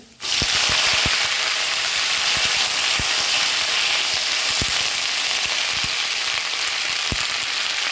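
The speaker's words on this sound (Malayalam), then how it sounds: "നമുക്ക് കരിയുന്നതിന് മുമ്പായിട്ട് മുരിങ്ങയില വാരിയിട്ട് കൊടുക്കാം" Drumstick leaves and dried red chillies frying in hot oil: a loud, dense sizzle bursts in abruptly and holds steady, dotted with sharp pops and crackles, no voices.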